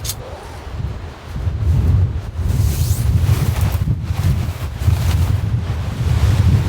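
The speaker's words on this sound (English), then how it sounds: "as you can probably hear, gushing wind through the trees" Strong wind gusts high in the mountains during a storm, a loud rumbling roar with heavy buffeting on the microphone that swells and stays steady throughout, no talk.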